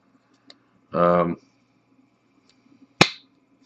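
A sharp, crisp snap rings out once as the blade of a Piranha X automatic knife flicks open, after a brief burst of a voice and a faint click.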